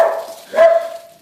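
An Australian Shepherd puppy gives a short, high yipping bark, then a second brighter yelp that trails into a thin whine, all close and fairly loud over about a second.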